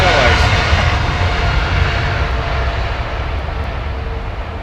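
A British Airways airliner landing at London Heathrow, its engines a broad steady roar that slowly fades over a few seconds, with faint voices in the background.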